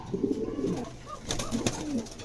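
A pair of female Spanish stesser pigeons cooing softly, close by, in short rolling phrases with brief gaps and no talking.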